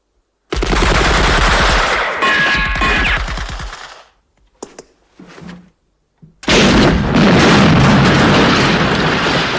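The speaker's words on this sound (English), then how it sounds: "We're getting fired from the church belfry, the mill house, the pub." Gunfire pours from a church belfry in a 1976 war film: a loud, sustained burst of rapid machine-gun fire, a few seconds of near-silence broken by isolated shots, then another heavy barrage.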